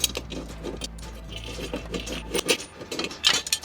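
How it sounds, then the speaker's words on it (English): Metal clinks and rattles from a regular wrench loosening the blade bolts on a lawn mower, several short scraping, jangling hits close up with a low engine-like hum fading partway through. "I'm going to use a regular wrench now to remove the bolts"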